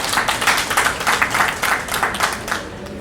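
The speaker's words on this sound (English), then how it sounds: "We can clap for ourselves." A World AIDS Day audience at the University of Nairobi claps steadily, a dense and fairly loud wash of many hands that runs throughout.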